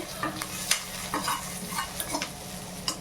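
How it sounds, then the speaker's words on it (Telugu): Garlic and curry leaves fry in hot oil as they are stirred in a pan: a steady crackling sizzle punctuated by short scraping strokes. "బాగా అయితే వేగనివ్వండి వీటిని రెండింటిని."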